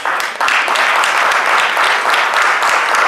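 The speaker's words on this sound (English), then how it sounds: "they deserve a round of applause for that" Loud, dense applause from a town hall audience fills the room from the first moments to the end, a steady wash of many hands clapping with no gaps.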